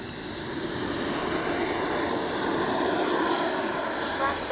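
An FMS Avanti S 90mm RC jet flies overhead with a steady, rising whine of its ducted fan, loud and continuous with a faint hiss, swelling slightly toward the end.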